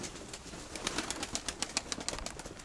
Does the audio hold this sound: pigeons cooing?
yes